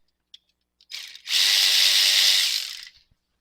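Power tool or ratchet tightening a longer 10 mm bolt during a vacuum pump delete on a 2014 Chevy 1500, a couple of short clicks then one steady whirring run of about two seconds, close and alone.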